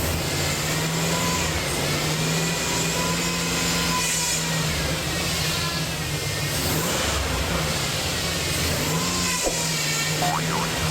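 A Chevrolet Silverado engine revs with a failing power steering pump, giving a loud, continuous mechanical drone and a whining hum that rises and falls with engine speed throughout.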